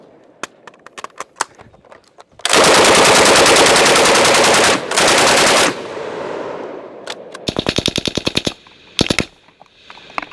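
Bren MKII light machine gun from WWII firing walking fire in long, loud sustained bursts, a shorter burst after a brief break, then a string of rapid single or short bursts, with sharp reports echoing outdoors.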